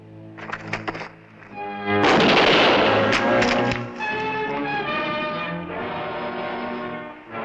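Rifle gunfire in a 1957 TV series, a loud burst of sharp shots after brief tapping, followed by sustained dramatic orchestral music.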